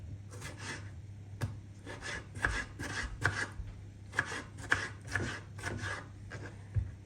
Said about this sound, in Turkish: Domateslerimizi de güzelce doğruyoruz.